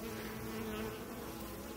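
A close, steady drone of many honeybees buzzing together at a hive, continuous and even without any voices.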